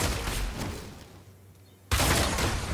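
Demon Hunter's Strafe ability in a video game, a dense rapid volley of piercing beam shots firing continuously, a short drop in intensity, then a sudden loud resumption of the barrage.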